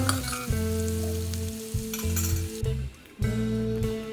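A tempering for ginger thokku sizzles in hot oil on a switched-off stove, with steady loud frying crackle, stirring scrapes and occasional metal clinks close by, and no talk.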